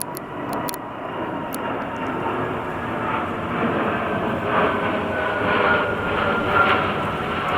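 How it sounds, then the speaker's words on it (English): A big plane drones overhead in a long, steady roar that swells slightly and stays loud throughout, with no voices. "Another big plane."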